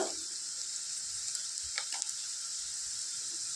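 Onions sizzle in a hot pan with a steady, soft frying hiss, broken by a few faint clicks and scrapes, with no talking.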